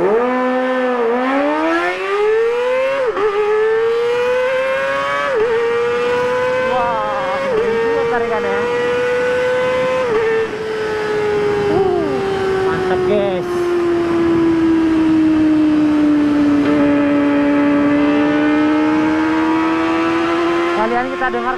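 A bored-up Kawasaki ZX25R motorcycle engine revs loudly on a city road beneath a flyover, its high-pitched inline-four scream climbing through repeated throttle blips and then holding a sustained wail, up close and dominant throughout.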